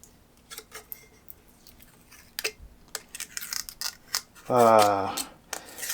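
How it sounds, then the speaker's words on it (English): Sublimation paper being peeled off a hot 20oz skinny tumbler, a series of close crackling rips and taps, followed by a brief burst of voice. "Let's see if we can get this paper off."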